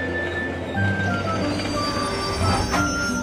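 A train rumbles steadily past with a constant low drone, high metallic wheel squeals and faint clacking, loud and near, no voices.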